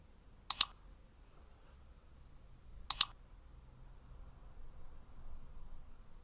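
A computer mouse gives two quick double clicks, about two and a half seconds apart, crisp and close in an otherwise quiet room.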